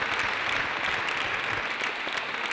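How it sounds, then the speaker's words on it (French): Steady applause from an audience at an awards ceremony for women in aeronautics, dense and even throughout with no voices standing out. "je crois qu'on peut les applaudir"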